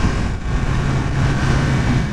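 A 2022 Yamaha MT-10 roadster's engine drones steadily at speed, a dense low growl with a faint rising tone, heard from the rider's position without any talking.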